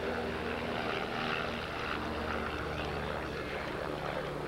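A low-flying aircraft, probably a helicopter passing over an outdoor college lacrosse match, makes a steady loud broadband engine roar with no pauses and no speech over it.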